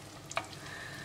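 Sausage risotto ingredients, seasoned with pepper and a pinch of salt, stirred round in a pan, giving a faint sizzle under a brief pair of scraping spoon strokes, alone and fairly quiet.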